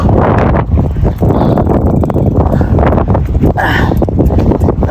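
Strong wind on a hot, rocky desert trail near Riyadh, Saudi Arabia, roaring loudly and steadily across the microphone with gusty buffeting throughout.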